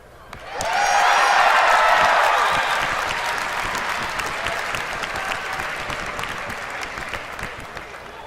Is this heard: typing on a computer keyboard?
no